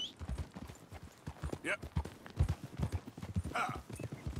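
Rhythmic clip-clop of horse hooves trotting in the video game Red Dead Redemption 2, steady and close, with a voice talking over them.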